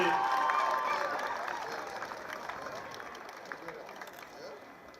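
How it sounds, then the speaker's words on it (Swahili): A crowd claps for scouts parading before the commander in chief at a Kenya Scouts Association Patron's Day, with steady applause under a spoken announcement, strongest at the start and fading gradually. "Tumpongeze kwa makofi."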